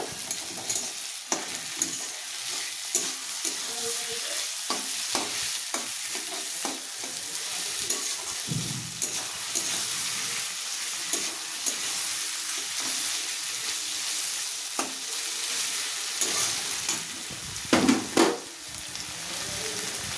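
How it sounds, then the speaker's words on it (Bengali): Papaya, onion and tomato fry in a hot pan for a chicken dish, giving a steady close sizzle with repeated stirring scrapes throughout and a louder clatter of the spoon near the end. "এই যে পেঁপে, তারপরে পেঁয়াজ, এগুলো কিন্তু আপনাদের 10-15 মিনিটের মতো ভাজতে হবে।"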